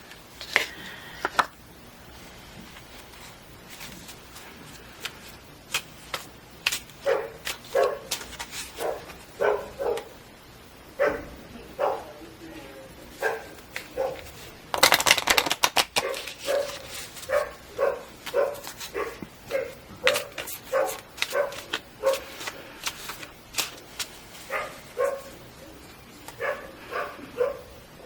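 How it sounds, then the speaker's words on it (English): A dog barks outside near a dog walking area, repeated short barks at an irregular rhythm over about half a minute, muffled and moderately distant, with a louder burst midway. "Sorry about the dog barking."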